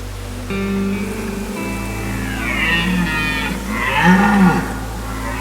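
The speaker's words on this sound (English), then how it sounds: "the bulls are running around chasing the cows, they're roaring their heads off, and the roar is truly a roar" Red deer stags in Patagonia bellowing during the rut, with several deep, drawn-out roars rising and falling one after another, loud and fairly near, over steady outdoor noise.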